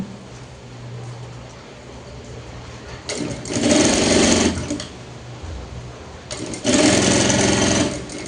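An electric sewing machine stitches a cloth apron, backstitching at the start and end. Two loud bursts of fast, even needle chatter rise over a low motor hum, each running a couple of seconds with a quieter pause between.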